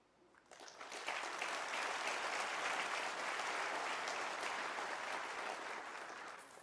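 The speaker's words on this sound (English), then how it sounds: "I thought that this one would get a big round of applause." An audience at a technology keynote breaks into applause, rising quickly to a full, steady clapping that holds for several seconds before easing slightly, loud and close.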